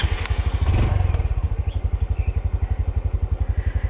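A Honda CT125 motorcycle on a scramble track thumps with a rapid, even engine pulse, loud and close, with a burst of clatter early on before settling into a steady idling rhythm.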